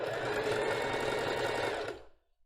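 A sewing machine runs a short backstitch on a lace bra cup, giving a fast, even mechanical whirr close by for about two seconds before it stops sharply.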